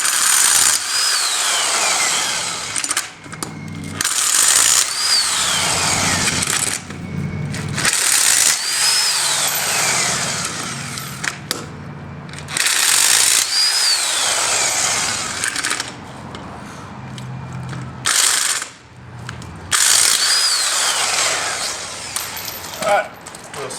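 Loud bursts of a power tool undoing the rear wheel bolts on a Mercedes Sprinter van, repeated whirring runs broken by short pauses, with a voice talking between bursts.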